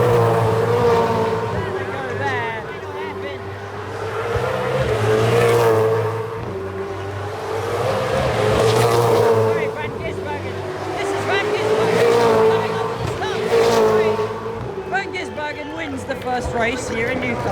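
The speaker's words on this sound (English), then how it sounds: "I want to see these cars come onto the start-finish straight." Race cars driving onto the start-finish straight at the Newcastle 500 street race, engines roaring in waves that rise and fade as cars pass, loud and continuous beneath ongoing commentary.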